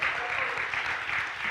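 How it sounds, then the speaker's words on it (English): A live podcast audience in Akron, Ohio applauds the local chapter leader, a brief, even roar of many clapping hands heard from some distance. "And give Christy a round of applause, too."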